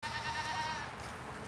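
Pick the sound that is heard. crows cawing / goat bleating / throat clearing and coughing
goat bleating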